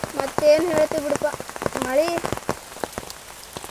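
Heavy village rain patters steadily on surfaces nearby while a person talks over it, the dense drops continuing under and after the speech.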